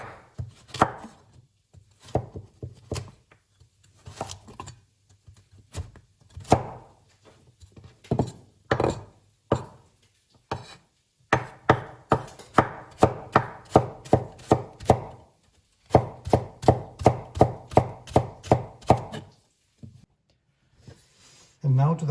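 A kitchen knife chops carrots on a cutting board for lasagna bolognese, close and crisp, in bursts of quick thuds that speed into rapid rhythmic runs with short pauses between.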